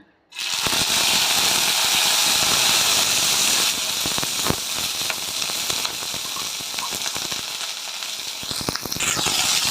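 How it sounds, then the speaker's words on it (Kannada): Green chillies sizzle and spit in a spoonful of hot oil in a pan while cooking military hotel style donne biryani, a steady loud frying hiss with crackling pops throughout, no talk. "ಸ್ವಲ್ಪ ಎಣ್ಣೆಯಲ್ಲಿ ಬಾಡಿಸ್ಕೊಳ್ಳೋಣ"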